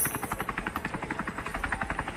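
A helicopter in the mobile game Scarfall 2.0, its rotor chopping in a fast, even pulsing rhythm, steady and moderately loud throughout with no talk.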